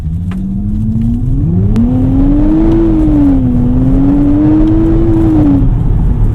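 A 2024 Nissan Z sports car engine accelerates from inside the cabin, its note climbing steadily in pitch and then holding a smooth, sustained drone at an even, moderate loudness with no talking.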